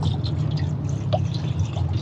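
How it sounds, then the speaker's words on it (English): Bottled water is poured down a drain on a Perodua Axia car, giving a close, continuous trickle with light dripping and gurgling throughout. "I'm gonna go get a bottle of water out of the trunk here, out of the boot, and pour it down there to make sure it's cleared out."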